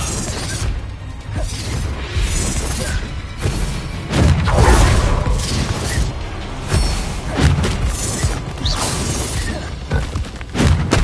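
A Descendo spell impact in the Hogwarts Legacy video game lands as heavy crashing booms and shattering debris, with repeated loud thuds and whooshes over a dense, rumbling game soundscape.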